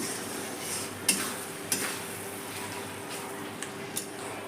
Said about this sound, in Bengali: চিকেনটা মশলার সঙ্গে খুব ভালো করে এবার কষাবো আমি।